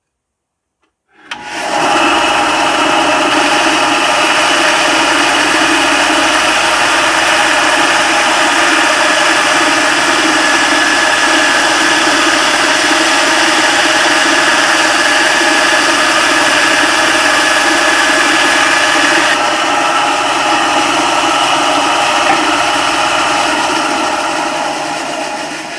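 A Ryobi bandsaw cuts through solid nara hardwood, a loud, constant motor hum with buzzing vibration that starts abruptly and runs unbroken for about twenty-five seconds.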